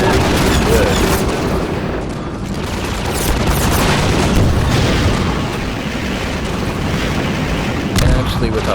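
Dense, loud explosions and gunfire rumble without a break during a gunship fight in the video game Half-Life 2: Episode 1, with booming bursts layered over one another and a voice talking over the din.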